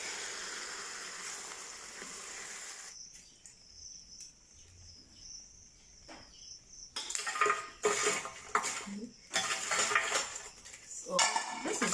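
A large pot of vegetarian jollof rice for twenty people gets stirred, with a metal spoon scraping and clattering against the pot in bursts in the second half, after a quieter stretch with faint insect chirping in the background.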